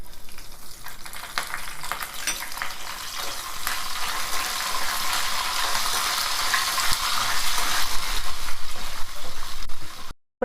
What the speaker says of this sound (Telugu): ఎల్లిపాయలు, తాలింపు గింజలు, ఎండుమిర్చి అన్నీ ఇట్లా వేయించుకోవాలి. ఇప్పుడు కరివేపాకు వేసుకుందాం.